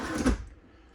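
A kitchen drawer with a soft latch in a 2021 Riverstone 42FSKG toy hauler fifth-wheel RV, heard as a single brief, soft sliding thud that quickly fades, close by.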